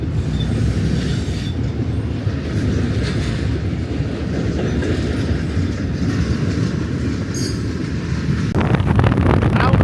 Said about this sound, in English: there's a giant train